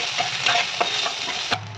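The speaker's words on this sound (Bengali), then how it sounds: "এই দেখুন লাল হয়ে গেছে পেঁয়াজটা এইরকমই ভাজবে" Onion fries in a pan until it turns red, with a steady close sizzle. A spatula stirs and scrapes through it several times before the sound cuts off abruptly.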